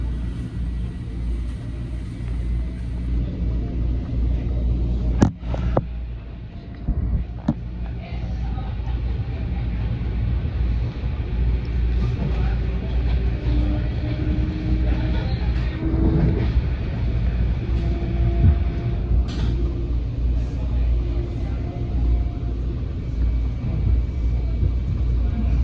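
Steady low rumble of a New York City subway train riding along the track, with faint clanks and brief squeals over the continuous drone and a voice talking now and then.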